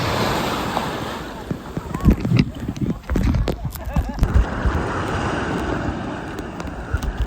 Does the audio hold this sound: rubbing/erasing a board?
no